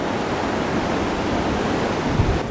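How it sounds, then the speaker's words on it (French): Continuous roar of Atlantic Ocean surf at San Sebastián, a dense wash of waves with wind noise, steady and fairly loud throughout. "L'océan avec les vagues"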